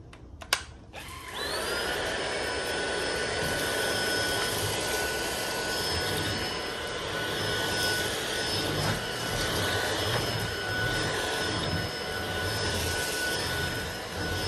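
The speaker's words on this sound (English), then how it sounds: "let me vacuum up" Household vacuum cleaner starting with a click and rising whine, then running steadily with a loud, constant high-pitched motor hum and airflow roar for the rest of the stretch.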